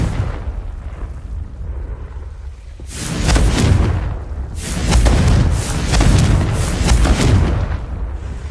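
Confringo fire spell explosions in Hogwarts Legacy on PS5, two heavy booming blasts with rumbling fiery roar that swells and lingers, loud and close with no talking.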